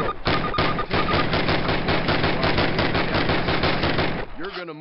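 Rapid automatic weapon fire in the World War II shooter Call of Duty 2, a dense, loud, continuous burst of closely spaced shots lasting several seconds before stopping abruptly, with a brief tonal sound at the end.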